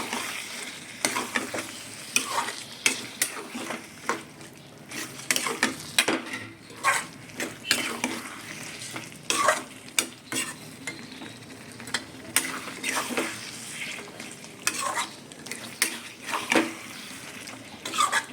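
Chicken stirred and fried in a pan, with a steady sizzle under repeated scraping and clattering strokes of a spoon against the metal, close and fairly loud with no talk.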